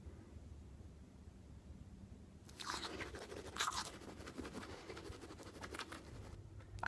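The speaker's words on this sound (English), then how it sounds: "So, I have to use my daughter's toothbrush." Brushing teeth with a borrowed child's toothbrush, a dense scrubbing rustle that starts partway in and carries on near and steady, stopping just before the end, with no talk.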